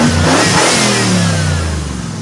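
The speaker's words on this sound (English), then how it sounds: "as you can hear, running 302. Give it a little rev here for you." Ford 302 V8 in a 1988 Ford Ranger revving up loud and close, a steady low engine roar swelling and easing back over a couple of seconds.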